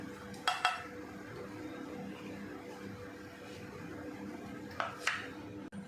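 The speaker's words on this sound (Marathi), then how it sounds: "आणि अजून थोडीशी मी चटणी टाकते" A spoon scrapes and clinks against a dish as chutney is added to a tangy, spicy snack, with two pairs of sharp taps early and late over a soft background hum.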